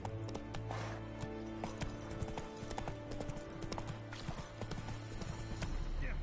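Roach, a horse in The Witcher 3, trots along with crisp, evenly spaced hoofbeats up close, layered over low ambient hum and occasional background sounds.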